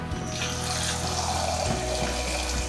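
Tap water pours steadily into a pot of potatoes, a close, continuous splashing flow with no pauses and no talking.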